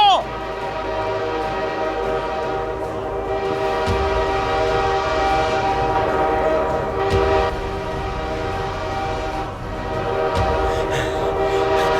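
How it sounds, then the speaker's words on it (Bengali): A train's horn blares in long sustained tones over the rumble of an approaching train, loud and close, with some faint voices mixed in. "ও দিদিমণি, ট্রেন আসছে যে গো।"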